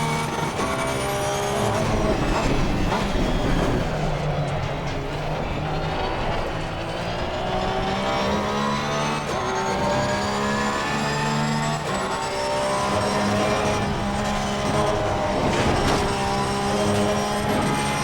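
Several GT3 race cars in the Assetto Corsa Competizione racing game, including a Porsche GT3 R and a passing Mercedes-AMG, on the Nürburgring circuit, their engines droning loud and continuous with rising and falling revs and gear shifts throughout, with no talking.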